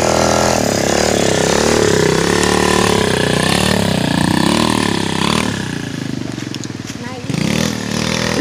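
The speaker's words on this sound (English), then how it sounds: "Let's get a shot of you riding up this hill." A 60cc pit bike climbs a trail hill, its small engine buzzing loud and close with a steady high-revving drone that shifts in pitch as the rider works up the slope, ending in rough, choppy revs.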